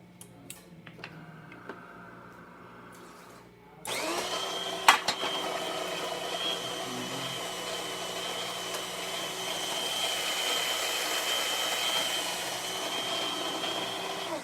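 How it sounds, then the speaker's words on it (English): A DeLonghi espresso machine, just serviced after a full tune-up, pulls a short test shot: quiet clicks and a low hum give way to a loud, steady pump drone that continues to the end, with no voices. "we're gonna do a shot of espresso as well"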